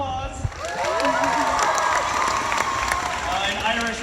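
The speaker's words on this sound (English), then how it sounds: "Give yourselves a round of applause" Convention crowd at VidCon 2019 breaking into applause and cheering, a dense wash of clapping with shouts and voices layered over it, loud and sustained throughout.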